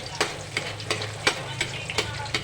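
Garlic frying in a pan while being stirred, a bright continuous sizzle with regular spoon scrapes roughly every half second, close and fairly loud, with a low hum underneath.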